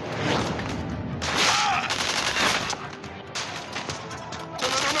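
Sustained bursts of automatic gunfire and rapid shots from the video game Tales from the Borderlands, loud and dense for several seconds with brief crashing impacts and only faint voices underneath.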